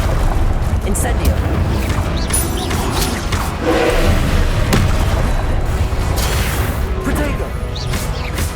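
Fire and combat spells burst in Hogwarts Legacy, including the Incendio fire spell, as a dense run of booming, crashing impacts and whooshes that overlap continuously and loudly, with voices calling out between them.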